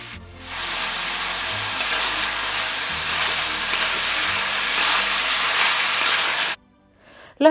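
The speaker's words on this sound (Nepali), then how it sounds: "मासुलाई एकदमै राम्रोसँगले भुट्ने। जबसम्म मासुबाट तेल छुटिँदैन तबसम्म।" Chicken pieces, with turmeric added, fry in oil in a pan, a steady broadband sizzle that holds loud and even for about six seconds, then cuts off abruptly with a brief clatter at the end.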